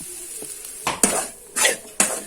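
A utensil stirs and scrapes grated coconut and turmeric as they fry in a metal pan. Several distinct scraping strokes sound close over a faint sizzle, with no talking.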